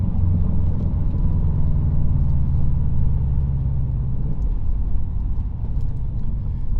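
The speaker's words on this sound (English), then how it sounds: "I'm gonna push the clutch in, blip the throttle," A car engine rumbles loudly and steadily as the clutch goes in and the throttle is blipped for a rev-matched downshift to second gear, the low drone shifting near the end.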